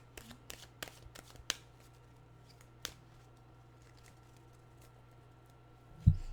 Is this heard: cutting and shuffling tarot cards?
yes